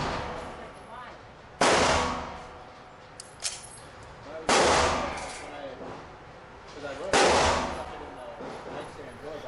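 Three sharp, loud pistol gunshots from a Glock 19 and CZ SP-01 at an indoor shooting range, spaced a few seconds apart, each with a short ringing decay, plus a fainter click-like report between the first two.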